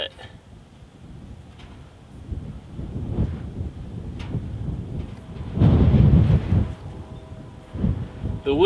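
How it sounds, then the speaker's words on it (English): Gusty wind buffeting an outdoor microphone during an oil change on a Farmall M tractor, rumbling in uneven surges that swell loudest near the middle, with occasional handling knocks. "the wind is really gusting out here today."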